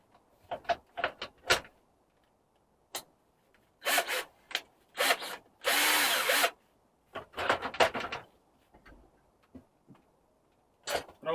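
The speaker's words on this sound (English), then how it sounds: "My drill has a hammer setting too." A power drill on hammer setting whirs in several short bursts, loud and close, with brief pauses and clattering between runs.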